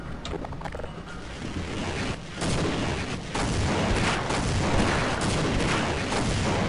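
Rapid explosive rocket and missile fire from a machine in the video game Half-Life, a loud dense barrage of booms and blasts that grows heavier midway and continues without pause.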